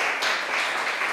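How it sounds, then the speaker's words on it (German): Audience at a German lecture evening on Georg Lukács gives a steady wash of clapping, dense and even throughout, with no voices over it. "Vielleicht noch mal Gelegenheit für einen kleinen Applaus von uns"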